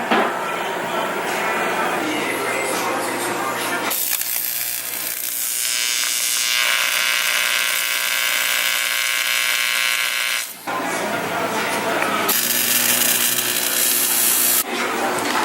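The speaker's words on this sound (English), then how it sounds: "He's welding them all in right now." Welding radiator brackets gives a loud, continuous crackling buzz that runs almost without a break, with short pauses where the arc stops and restarts, heard up close.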